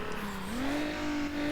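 A traffic car in the racing game Need for Speed Underground passes by, with a steady engine drone that rises in pitch and then holds level over continuous road and engine noise.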